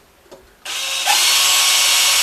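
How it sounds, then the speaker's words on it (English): A power drill bores a hole into a guitar neck resting on a chair, with a click, then a motor whine that rises as the bit bites into the wood and holds steady, loud and close. "I'm going to drill my first hole"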